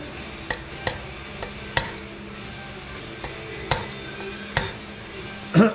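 Light taps of a piece of pipe on a strut insert for a 1971 Volkswagen, about eight sharp metallic knocks spaced irregularly, close and fairly quiet, with a louder clank at the end.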